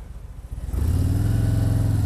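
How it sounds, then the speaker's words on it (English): A car engine swells in from quiet and holds a loud, close, rumbling roar as the vehicle passes nearby. "maybe I better stop and let that car go"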